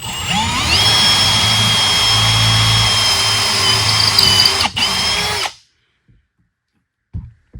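A power drill drives screws through a Kreg pocket hole jig into wood, a loud steady whining spin lasting about five seconds with a brief stutter near the end, then silence broken by faint knocks.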